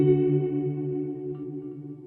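A guitar played through a Line 6 POD runs into delay and reverb, giving sustained, shimmering chords that slowly fade with an ambient echo tail, without voices.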